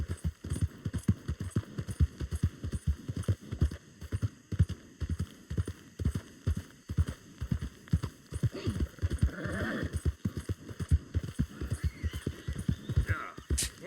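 Horse in the Red Dead Redemption 2 video game, hooves clip-clopping in a steady rapid rhythm throughout, with a neigh or whinny rising near the end over the hoofbeats.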